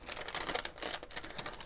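Crinkly, vellum-like crystal sheer paper in light blush pink rustles and crackles close up in quick, dry bursts, handled quietly with no voices.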